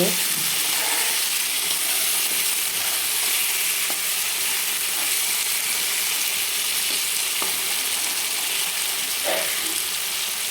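Drumsticks cooking with spices in a pan for a mixed dal dish, a loud steady sizzle running the whole time, with a few light scrapes and knocks as they are stirred.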